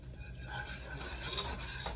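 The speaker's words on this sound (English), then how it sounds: "stir it up here till it gets, you know, toasted and like, you know, clumps up some" Flour mixture being stirred in a pan on the stove until it toasts and clumps, giving a steady scraping and rubbing of a utensil against the pan with faint sizzling underneath, close and continuous with no talking.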